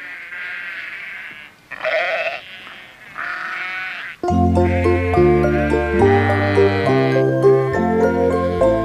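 A sheep on a farm bleats in several wavering calls, then sustained musical notes from a children's farm song set in with a steady melody.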